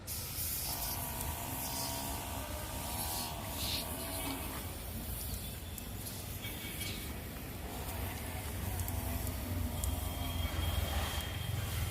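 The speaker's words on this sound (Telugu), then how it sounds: "స్ప్రే చేస్తున్నా ఈ కొమ్మ" Pesticide is sprayed onto a marigold plant branch from a sprayer, giving a faint, steady hiss of spray that runs throughout.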